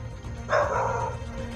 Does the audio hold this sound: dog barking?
yes